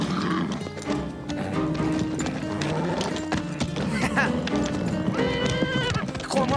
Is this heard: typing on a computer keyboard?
no